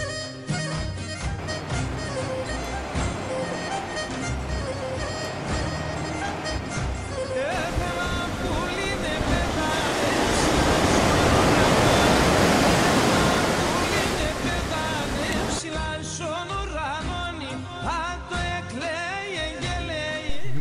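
Surf washing onto Porto Katsiki beach on Lefkada, a broad steady roar of breaking waves that swells in the middle and stays continuous throughout, with no voices.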